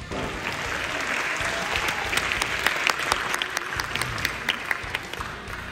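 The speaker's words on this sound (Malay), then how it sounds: "Rindunya saya mendengar gema tepukan daripada para pelajar UiTM." University students in a crowded hall applauding, a continuous clatter of many hands with sharper individual claps standing out, held at a moderate level throughout.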